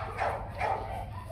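A Bac Ha village dog, a large white one weighing over 20 kilograms, gives two or three quiet, muffled barks in quick succession at some distance, with faint yips between them.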